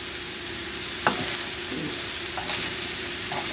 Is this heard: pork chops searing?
yes